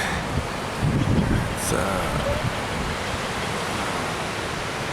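Heavy, steady rush of the North Fork American River flowing fast and full, a broad constant roar close by with faint wind and brief muffled sounds over it.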